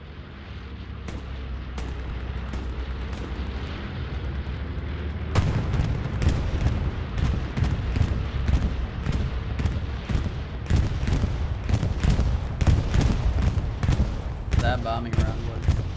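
In a multiplayer World War II shooter battle at Sainte-Mère-Église, a bombing round lands as a barrage of sharp, booming explosions and scattered gunfire, irregular blasts growing denser and louder, with players talking underneath.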